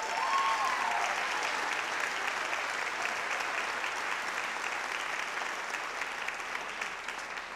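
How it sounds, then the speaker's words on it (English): Applause fills a high school instrumental concert hall for a band director, a dense, even wash of clapping from a large audience at moderate distance, steady throughout and slowly tapering. "So how about a round of applause for Mr. Cassano?"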